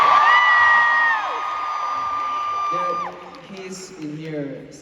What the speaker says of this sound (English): So let's applause to him.